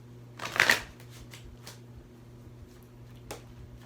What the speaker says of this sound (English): let me pull one more card on this